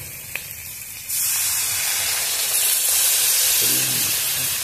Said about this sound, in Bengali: এখন আমার কষানো হয়ে গেছে, এখন জল দেবো